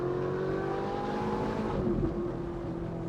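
Ferrari 458 Italia with Novitec valved sport exhaust wailing, a sustained high, tonal engine note that holds steady and then shifts pitch slightly as it changes character, heard alone without talk.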